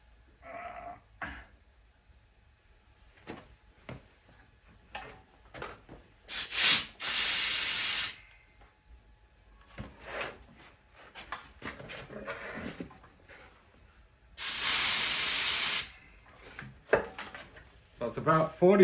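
A homemade five-cylinder rotary steam engine runs on compressed air, giving two loud, sustained bursts of hissing air a few seconds apart, with someone talking quietly in the pauses between them.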